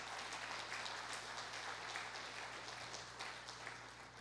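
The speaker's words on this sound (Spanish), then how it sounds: "Dale un fuerte aplauso al Señor" A church congregation claps during a family worship service, a fairly faint, steady patter of many hands over a low constant hum, tapering slightly toward the end.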